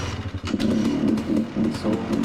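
A KTM EXC dirt bike engine runs after being de-flooded, a loud, close, steady idle with a rough pulsing rhythm.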